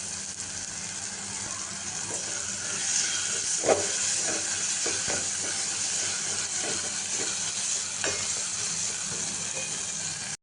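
Sautéed onions with spices being stirred in a hot pan, a steady sizzling hiss with a few soft scrapes and clinks of the spoon against the pan.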